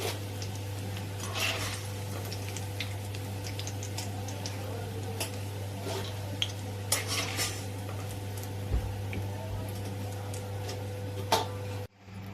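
Fried dal being lifted from hot oil in a pan, with metal utensil clinks and scrapes over a faint steady sizzle and a low hum, close by.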